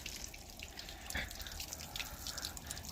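Hot water runs from a shower head inside a camper car, giving a steady, faint hiss of spray with light dripping and splashing throughout and no voices.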